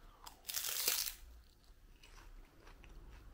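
Triple M seaweed sticks, a crisp yet slightly chewy roasted seaweed snack, give a loud, close crunch in one burst of bites, followed by quieter chewing.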